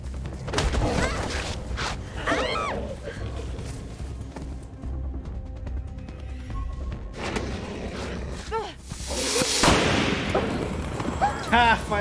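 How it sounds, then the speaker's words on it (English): In the horror video game The Quarry, a firecracker bursts right in a character's face: a loud, sharp crack that cuts through dense game music, effects and shouting voices. "Firecracker to the face."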